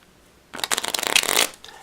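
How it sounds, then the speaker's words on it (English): A deck of playing cards is riffle-shuffled once, a crisp, close fluttering burst lasting about a second after a quiet pause. "We'll give the deck a shuffle."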